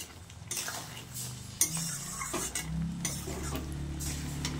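A metal spoon scrapes and clinks against a pan while crab curry with poppy seed paste cooks down, with soft stirring scrapes, one sharper knock, and a faint sizzle underneath.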